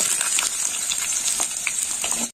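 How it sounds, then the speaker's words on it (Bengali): Sweet potato frying in hot oil with dried red chilli and mustard seed tempering, a steady bright sizzle with scattered crackles and pops lasting throughout, close and fairly loud, with no talking. "রাঙা আলুটা একটু ভাজা হয়ে গেছে"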